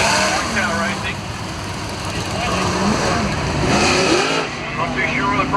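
Several 360 sprint cars in a race field rev and drone together at the start of an A-main at a Victorian dirt-track title meeting, a continuous loud engine roar with rising and falling pitch sweeps, a commentator talking over it on the PA.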